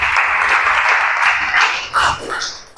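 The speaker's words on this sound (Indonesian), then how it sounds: "kita kasih aplaus yang meriah untuk kelompok 4 terlebih dahulu" Enthusiastic applause for group 4 after their presentation in a classroom lesson, a steady wash of many hands clapping throughout, fairly loud and close, with no talk over it.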